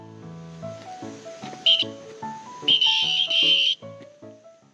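An electronic whistle shrieks in several loud, sharp blasts, fired repeatedly on a forest road near a river to scare off bears, amid tonal chirping and short pauses between bursts.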